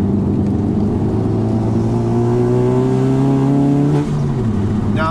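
Car engine revving loudly and continuously as the driver downshifts to third gear going into a turn, the pitch climbing steadily before dropping sharply near the end, on a car with an Acuity performance shifter and Michelin Pilot Sport 4S tires.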